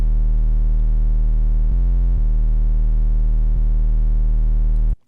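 Loud, sustained distorted 808 bass tone with dense buzzy harmonics, shifting pitch briefly in the middle before cutting off abruptly at the end.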